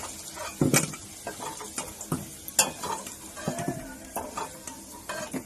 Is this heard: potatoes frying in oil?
yes